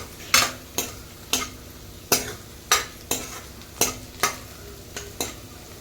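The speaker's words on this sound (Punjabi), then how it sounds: "ਆਪਾਂ ਪਹਿਲਾਂ ਤੜਕਾ ਜਿਹੜਾ ਉਹਨੂੰ ਭੁੰਨ ਲਾਂਗੇ" Spices frying in a pan under a soft steady sizzle, punctuated by about ten sharp scraping strokes of a utensil at a regular pace.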